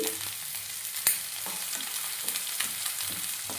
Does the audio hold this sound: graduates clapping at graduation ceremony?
no